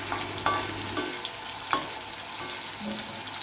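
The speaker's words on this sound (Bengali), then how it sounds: "এবার আলু ভাজা পটল ভাজা করে মাংসটা বসাবো" Potatoes and pointed gourd frying in a pan give a short burst of continuous, close sizzling, with a few sharp clicks of a utensil striking the pan.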